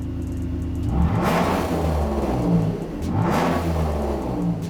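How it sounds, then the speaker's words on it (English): Jeep JK Wrangler engine fitted with a JMS PedalMAX drive-by-wire throttle enhancer set to 100, revving sharply twice to about 3,000 RPM from a steady idle, loud and close with quick climbs and falls. "you can tell right away it revs much quicker"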